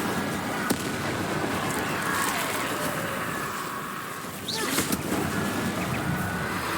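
The Incendio fire spell is cast in Hogwarts Legacy, producing a steady whooshing, crackling burst of flame effects at a fairly even loudness with small popping accents.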